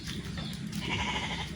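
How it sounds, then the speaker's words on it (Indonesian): A wild goat bleats in a bamboo forest, a faint, brief cry heard at a distance over rustling outdoor background noise, with no talking. "sempat Bang Udin dengar suara kambing hutan tuh"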